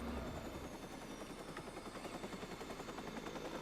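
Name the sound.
helicopter in video game Watch Dogs 2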